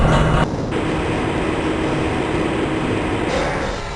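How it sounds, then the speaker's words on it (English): A train rolls through the Black Mesa facility in Half-Life Blue Shift, giving a loud, steady low rumble with rattling undertones that holds throughout, with no one talking. "This train is inbound from the Area 8 topside dormitories to the Central Transit Hub in Area 9."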